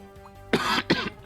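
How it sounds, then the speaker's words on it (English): Two quick, harsh coughs close to the microphone, one right after the other, over faint background sound. "I'm not cutting out the coughs"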